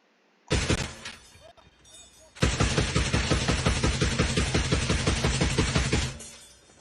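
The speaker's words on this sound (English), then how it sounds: "an inside view of Ukrainian BTR firing on Russian positions with no music, so I can play the audio" Heavy automatic cannon fire from inside a Ukrainian BTR armored vehicle shooting at Russian positions: a short opening burst, a brief pause, then a long, rapid, evenly spaced volley of loud shots.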